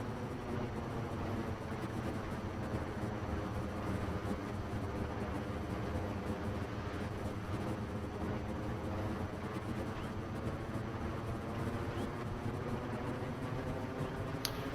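Aircraft engine in the Trailmakers building game, a constant droning hum with a broad whooshing wash that holds steady and unbroken for the whole stretch, no talk.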